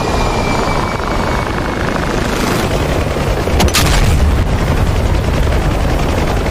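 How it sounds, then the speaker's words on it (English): Bomb explosions from an A-10 Warthog in a flight combat game rumble loud and continuous under steady engine and aircraft noise, with a sharper blast swell near the middle. "bombing around Francis's"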